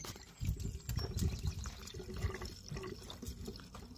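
Coolant water pouring and trickling into the radiator of a Daihatsu Hijet 1.3 at the pipe inlet, a steady close liquid gurgle with small splashes and drips throughout.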